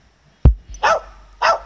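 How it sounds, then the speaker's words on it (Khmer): Dog barking sound clip for Facebook Messenger: a sharp thump, then two short, distinct barks spaced about half a second apart, close and clear with nothing else heard. "សំឡេងឆ្កែព្រុស"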